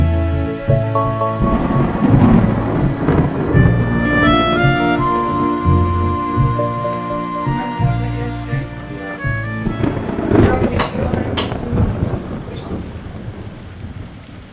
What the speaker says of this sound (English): I just heard one of the loudest thunders